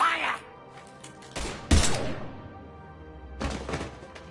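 Gunfire in the video game Mass Effect 3: two loud bursts of shots, one short and one longer, with voices talking between them.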